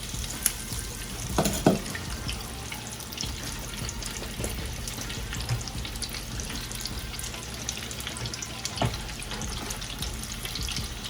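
Deviled eggs frying in a pan, a steady close-up sizzle and crackle with a few brief clatters and taps early on.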